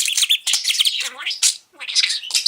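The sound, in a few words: budgie imitating a chickadee call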